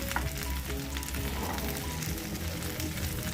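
Chicken hits hot oil with crackling curry leaves for Hyderabadi-style Chicken 65, giving a loud, steady, dense sizzle that fills the whole moment with no talking.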